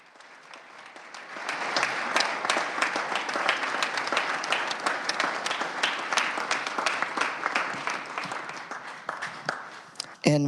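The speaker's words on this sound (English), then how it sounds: "if my colleagues would stand and give them a round of applause" Senators applaud in a legislative chamber, the clapping building from quiet to a steady, moderately distant patter of many hands that holds for several seconds, then a voice begins at the end.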